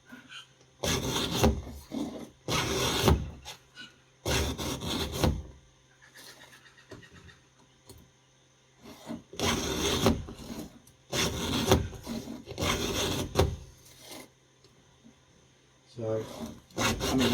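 A hand file strokes across the teeth of a chainsaw chain in a workshop, giving loud, rasping scrapes in quick groups of two or three with short pauses between them.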